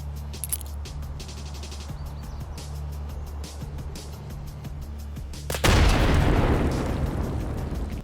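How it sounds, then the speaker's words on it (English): Behind a low engine-like hum with scattered clicks, an F1 hand grenade goes off with a sudden loud blast, followed by a rumbling wash that slowly fades. "So the first explosion you're going to see here is the F1"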